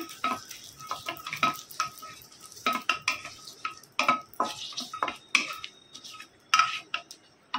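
Whole garam masala and bay leaves are stirred in melted ghee in a pan, with irregular metallic scrapes and clinks of a spoon against the vessel over a faint sizzle, sounding close and alone.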